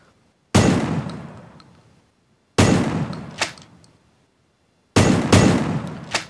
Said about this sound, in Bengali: এখন তোমাদের ফায়ার করে দেখাই তোমাদের সাউন্ডটা কীরকম শোনাচ্ছে দেখো তোমরা